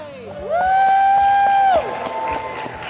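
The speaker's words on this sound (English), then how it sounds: "If we just all cheer and say goodbye." A live podcast audience at a LeakyCon 2023 fan convention cheers, with one loud sustained whoop rising above the general crowd noise for over a second before the room settles into a lower, steady hubbub.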